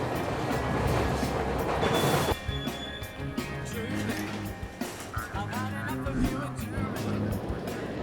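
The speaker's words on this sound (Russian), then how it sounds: "Это станция метро «Охотный ряд»" A Moscow metro train rumbles and screeches through Okhotny Ryad station, wheels squealing at first, then a steady rolling clatter with people talking nearby.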